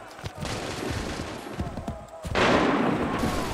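A dense volley of gunfire rattles through a battle in the Assassin's Creed 3 video game, with overlapping shots building into a sustained roar that swells louder toward the end.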